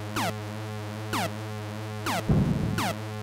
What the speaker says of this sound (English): Who decided robots sound like this?